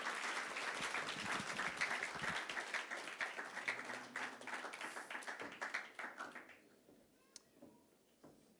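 A church congregation claps and applauds steadily to welcome the pastor, a dense crowd of hands that gradually thins and fades out to scattered claps.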